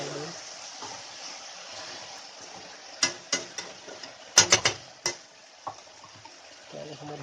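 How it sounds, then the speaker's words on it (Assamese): Meat for kachu is stirred and mixed in a sizzling pan, sharp scraping clatters of the spoon breaking in bursts over a soft steady fry, with brief quiet talk at the start and end. "এতিয়া মাংসখিনি ভালদৰে মিক্স কৰি দিওঁ"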